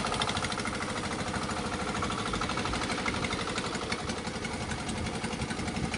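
A small generator engine misfires and sputters aboard a squid fishing boat at night. It runs with a close, loud, steady rhythmic rumble and uneven pulsing throughout.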